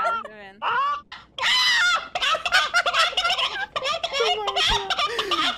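A chicken dance emote in the PUBG video game gives loud, repeated clucking and squawking bursts in quick succession, mixed with voices.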